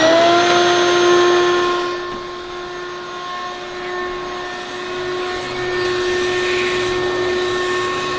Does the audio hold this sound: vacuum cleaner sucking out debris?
yes